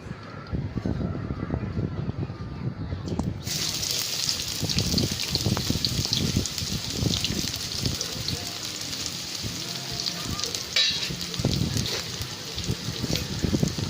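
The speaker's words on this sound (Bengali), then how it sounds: "তেলটা আমার গরম হয়ে এসছে। এবারে আমি তাতে পেঁয়াজ কুচিটা ফার্স্ট আমি দিয়ে দেবো।" Chopped onion hits hot oil and bursts into a loud, steady hiss and crackle that runs to the end, close up, over a low murmur of a voice.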